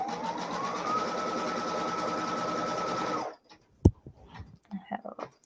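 A sewing machine stitching quilt blocks runs at a steady, fast, whirring pace for about three seconds, then stops, leaving a few light clicks and handling noises close by.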